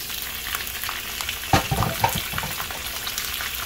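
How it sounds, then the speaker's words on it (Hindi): Onions browned in oil sizzle steadily as peas are tipped in for aloo gosht, with a brief louder burst of frying and stirring partway through before the constant hiss settles again. "इसमें अब हम ये डाल देंगे मटर"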